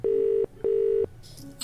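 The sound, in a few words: telephone dial tone in a video game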